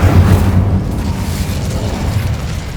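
In Hogwarts Legacy, the Incendio fire spell goes off as a loud, deep whooshing blast that booms at once and then rumbles and fades over a couple of seconds.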